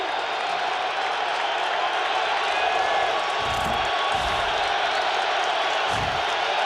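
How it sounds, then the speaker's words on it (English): A sellout stadium crowd roars at a 2002 NFL football game between the Chicago Bears and Detroit Lions in Detroit. The broad, steady roar holds without letup, with faint thumps low underneath. "Sellout crowd making noise."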